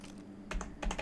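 Keys on a computer keyboard pressed in a quick cluster of sharp clicks close by, several taps near the end after a brief quiet stretch, during a Rainbow Six Siege match.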